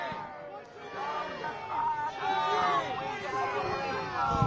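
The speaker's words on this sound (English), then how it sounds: "crowd getting noisy, shouting shame just towards the agents there across the street" Protest crowd at a Minneapolis ICE protest shouting shame toward agents across the street, a noisy mass of overlapping voices and chants, close and continuous.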